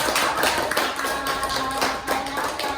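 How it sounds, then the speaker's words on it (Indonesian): A group of students claps in a classroom guidance session, a fairly close patter of hand claps with recurring rhythmic bursts at moderate loudness and no talking over it. "Tepuk tangan"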